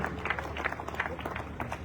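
Guests at a Sierra Leonean community fundraising dinner clap together in an irregular, lively patter of many hands, with crowd murmur mixed underneath the applause.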